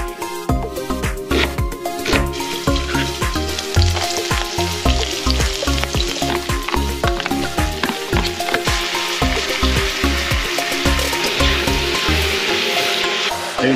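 Steady, loud sizzling of chicken frying in a pan, with occasional clinks and stirring scrapes running continuously throughout.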